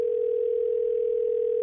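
A steady telephone dial tone hums alone for under two seconds, a single unbroken pitch at moderate level with no voices.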